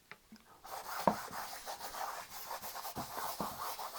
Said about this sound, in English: Let's just dab that with some linseed oil. Rub that on